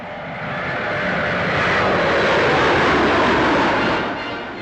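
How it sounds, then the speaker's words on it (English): A Viscount 700 airliner with four turboprop engines flying at the 1950 Farnborough air show, a loud, broad engine roar that swells and holds steady as it passes near, with no talking. "This 50-seater medium-range airliner with a cruising speed of 312 miles an hour is powered by 4 turbo-propeller engines."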